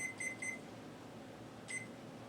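A kitchen timer is set for orzo pasta cooking on the stove, giving three quick, faint electronic beeps followed by a single beep after a pause, over a quiet room hum.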